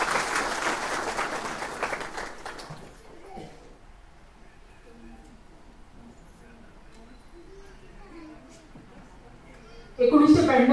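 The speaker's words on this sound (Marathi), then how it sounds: "मी आता ज्यांची नावं घेतली त्या सगळ्यांसाठी एकदा जोरदार टाळ्या झाला पाहिजे असं मला वाटतं." Audience applause at a felicitation ceremony: a dense burst of clapping for the first few seconds that dies away into quiet room murmur, then a fresh loud outburst of clapping near the end.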